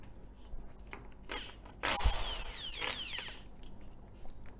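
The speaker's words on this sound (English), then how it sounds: "here I have a drill" An electric drill bores a hole in a homemade PCB holder for soldering, with short bursts then a sustained whining run of about two seconds, close and fairly quiet, with no talking.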